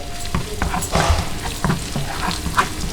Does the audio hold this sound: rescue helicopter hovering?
no